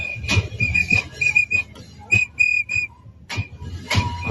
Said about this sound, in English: I'm blowing a whistle at something.